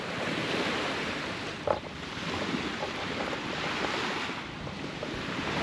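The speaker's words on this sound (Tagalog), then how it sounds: "Ito yung mga dagat." Sea waves wash steadily onto the shore, a loud continuous surf roar mixed with gusting wind buffeting the microphone, with one brief knock partway through.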